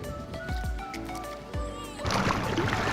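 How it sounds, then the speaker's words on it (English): Inflatable kayaks paddled back through choppy water in the Florida Keys, with rhythmic paddle strokes and sloshing that swells into a louder wash of splashing near the end. "We're paddling back."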